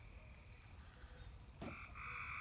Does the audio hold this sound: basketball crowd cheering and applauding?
no